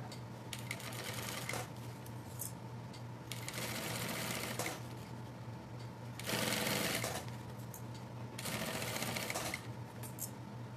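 A sewing machine stitches a backpack lining, its rapid mechanical chatter coming in several bursts of a second or two, separated by short quieter pauses, close and clear.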